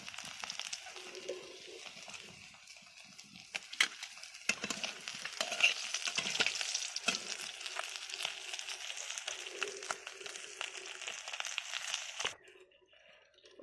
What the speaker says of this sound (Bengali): মাছ ভাজা আমার রেডি হয়ে গিয়েছে। এবার মাছগুলোকে তুলে নেবো আস্তে আস্তে।